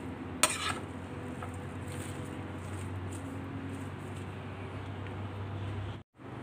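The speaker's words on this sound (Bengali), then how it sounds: "সবগুলো একটু উলটপালট করে নেড়ে ভালো করে মিশিয়ে দেব।" A utensil scrapes and clinks against a pan as bitter gourd and spices are tossed together for a fry, steady moderate stirring close by with one sharper clatter near the start and a brief gap near the end.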